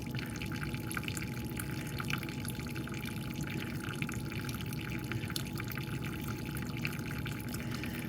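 Liquid from an E-Z Trencher EZ-9100 ground saw's tank drains in a steady, low trickling stream with faint drips, continuous and fairly quiet throughout, with no voices.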